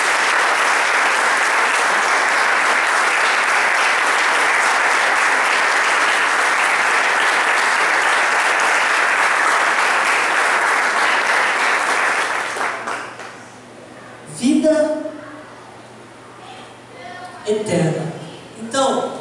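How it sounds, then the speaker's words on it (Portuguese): A church congregation applauds in sustained, dense clapping that fills the room for about twelve seconds, then fades out as a preacher begins speaking. "Eu queria uma salva de palmas a Jesus Cristo por isso."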